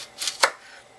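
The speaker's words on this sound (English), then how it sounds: "The next thing we'll do is we'll chop up the shallot." A kitchen knife chops a shallot on a cutting board in two crisp, close strikes, the second sharper than the first, with no talk over them.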